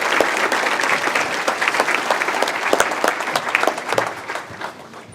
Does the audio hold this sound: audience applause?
yes